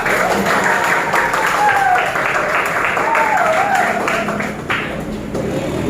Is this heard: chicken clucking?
no